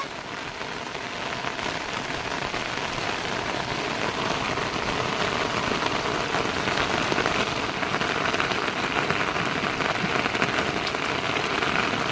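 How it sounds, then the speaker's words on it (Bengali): Heavy monsoon rain pours down at a forest site in the Marichjhapi jungle as a dense, loud, unbroken roar of drops hitting surfaces, with no voices. "প্রচণ্ড জোরে কিন্তু বর্ষা শুরু হয়েছে।"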